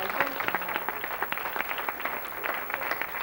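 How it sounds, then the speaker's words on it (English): Audience at a 1990 Nickelodeon Studios live audition at Universal Studios Florida gives a brief burst of dense, fairly close clapping that stays steady throughout. "Give them a big round of applause as well."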